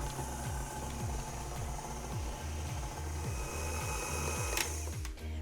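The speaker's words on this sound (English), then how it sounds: "once you have finished getting all your lemon juice in there, it's time for one last mix." An electric mixer whirs through vegan lemon drizzle cake batter with lemon juice added. It runs at a steady, rhythmic pulsing hum for several seconds, close and moderately loud, with no talking.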